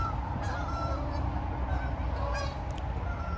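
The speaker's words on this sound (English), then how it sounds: "Here goes the geese." A flock of geese honks steadily for a few seconds, the calls carrying over a constant outdoor background hum with no one speaking.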